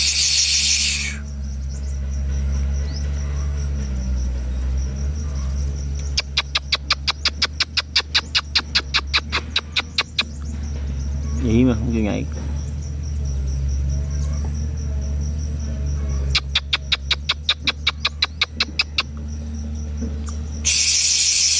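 A wild sunbird gives bursts of rapid, high-pitched trilling chirps with a short warbling call between them, heard during outdoor bird trapping over a steady low background hum.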